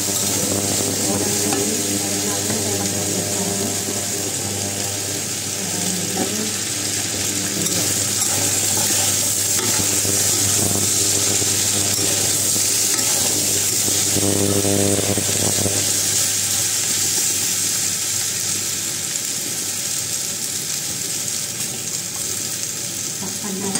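Igado sizzles and fries steadily in a pan while a utensil stirs it, with scraping and clattering passes layered over the constant crackle.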